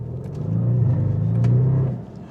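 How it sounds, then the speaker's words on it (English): Audi RS7 V8 with stock exhaust rumbling in dynamic mode, a steady deep low-pitched drone that swells slightly mid-clip and fades near the end, heard close from the cabin with no talking. "Ooh, you get the rumble of that V8."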